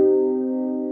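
A minor chord on guitar in a soulful style, already ringing at the start, sustains evenly and fades gently with no other sound.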